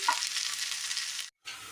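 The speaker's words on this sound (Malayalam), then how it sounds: "വെണ്ടയ്ക്ക ഒന്ന് വഴറ്റിയെടുക്കാം." Okra sautéing in a pan, a close, even frying sizzle with light stirring that breaks off briefly near the end and then resumes.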